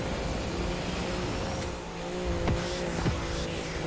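A Maserati MC20 race car engine roars steadily in The Crew 2 racing game, sustained high-revving drone with a few sharp transient clicks, loud and continuous with no talk.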